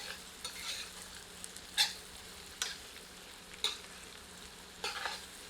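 Mutton pieces and onions frying over medium heat in a pan, a soft steady sizzle broken by a few sharp scraping stirs spaced a second or so apart, faint and close, with no voices.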